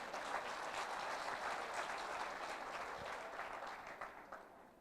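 Audience at a conference applauds in a steady, moderately loud burst of many clapping hands that slowly fades toward the end, with no speech over it.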